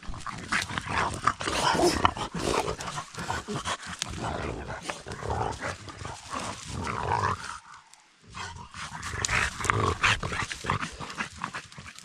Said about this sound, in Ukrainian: От собаки.